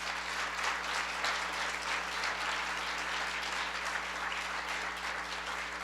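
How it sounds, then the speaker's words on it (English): A room full of people gives the Champs for Change a round of applause, even and continuous clapping heard from a slight distance over a low electrical hum. "let's begin with giving a round of applause to our Champs for Change."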